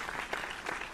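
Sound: applause for graduates in the video game The Crooked Man

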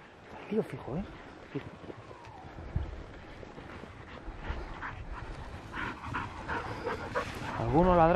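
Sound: hunting pack dogs barking during Spanish montería

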